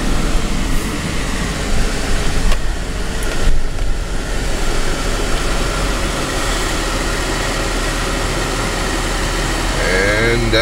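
A car travels the ride home through jungle-lined roads, with a constant engine and road rumble close by, shifting slightly near the end, while a person talks over it.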